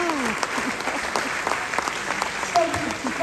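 An audience claps enthusiastically, a dense burst of applause filling the room, with a few voices calling out over it.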